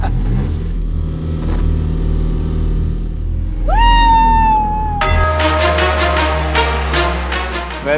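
Car engine on a test ride with poor pickup and acceleration, running loud: a steady drone, then a rising whine as it speeds up, then a shift to a harsher, pulsing engine note.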